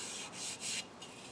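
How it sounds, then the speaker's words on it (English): Several short rasping strokes of a strip of sandpaper rubbing across a wooden whirligig propeller, close up, in quick back-and-forth rhythm. "final sanding I'll do with a strip of sandpaper."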